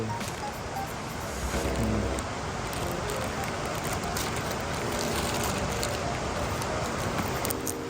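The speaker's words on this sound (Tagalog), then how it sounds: "maingay yung ano guys kasi umuulan." Steady heavy rain from a typhoon pours down throughout, a dense broadband hiss with gusty wind mixed in, continuous and fairly loud with no breaks.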